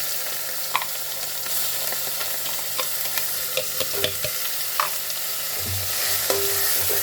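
Onions and garlic paste frying in a pan for an aloo pakora sabzi, a steady broadband sizzle throughout with repeated clicks and scrapes of stirring, close and fairly loud, no voices.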